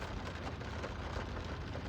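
Rain falls steadily outside a parked car, a dense, even patter on the roof and glass with no pauses or voices.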